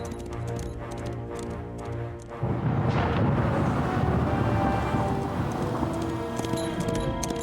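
Deep thunder from an approaching storm rolls in, a broad rumbling swell that rises suddenly and stays loud, layered over a steady outdoor background.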